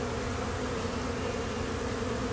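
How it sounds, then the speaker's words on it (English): A dense, steady buzzing of many bees at a beekeeper's hive, close by, a continuous low drone with no pauses and no voices. "I can see the bees."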